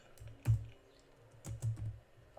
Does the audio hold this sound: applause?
no